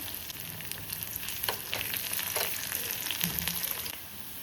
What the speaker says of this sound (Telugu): ఉల్లిపాయలు వేస్తుంది, 2 ఎండుమిర్చి